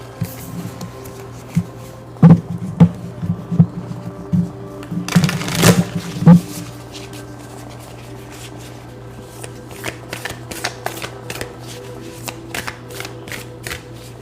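Tarot cards shuffled and drawn, with a steady run of soft riffling flicks and a louder burst of rapid shuffling in the middle, then scattered light card snaps, all close and unaccompanied by talk.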